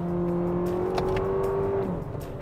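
A 2024 Lexus TX three-row SUV with paddle shifters accelerates hard, its engine drone rising steadily and then dropping at a gear change, heard from inside the cabin with no talking.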